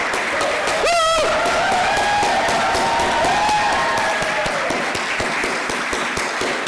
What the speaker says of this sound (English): Let's stand up for them and give a rousing round of applause.